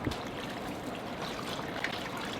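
A mix of half water and half beef broth pours into a Dutch oven, a steady trickling splash that runs continuously with no talking over it.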